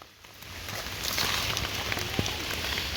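Rain falls in a forest during mushroom foraging, a soft continuous hiss of drops on leaves that builds after a quieter start and continues evenly, with a few faint close taps.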